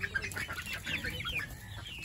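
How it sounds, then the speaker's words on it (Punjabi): Hens on a village farm cluck in short, scattered calls, fairly close, with no talk over them. "ਲੈ ਤਾਂ ਕੁੱਕੜੀਆਂ ਬੱਤਕਾਂ"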